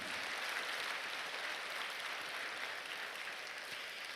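Sustained applause from a church congregation, a dense even wash of clapping that stays loud throughout without voices.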